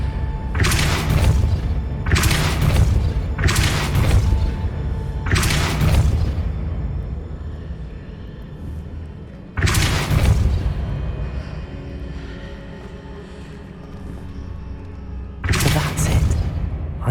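In Hogwarts Legacy, a Depulso spell shoves a moving stone platform across a bridge with a series of heavy, booming thuds, four in quick succession and then two more spaced apart, each fading into rumbling.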